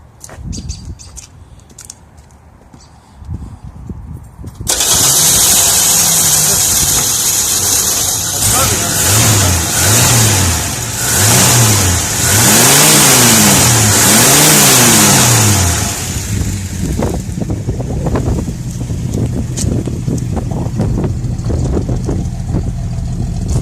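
A car engine cranks and starts, then revs up and down repeatedly in rising and falling surges before settling into a rough idle, close by.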